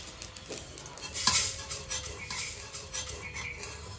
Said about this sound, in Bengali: এবার আমি এই কালো জিরাগুলো একটু ভেজে নেব। যে পটপট করে আওয়াজ হচ্ছে